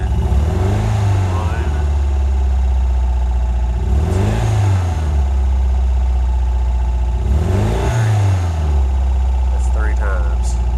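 A Nissan SR20DET car engine idles under no load and is revved three times to about 2,000 RPM, each rise and fall spaced a few seconds apart, loud and close with a steady idle between the revs.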